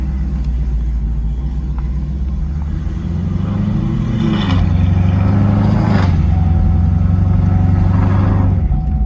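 A twin-turbo Camaro, used as a daily driver, pulls away with a loud, close, deep engine rumble that swells as it builds speed, and no talking.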